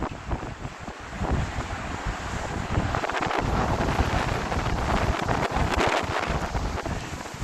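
Heavy winter-storm wind off Lake Superior in Minnesota buffets the microphone continuously, a loud rumbling roar with gusty surges and no voices.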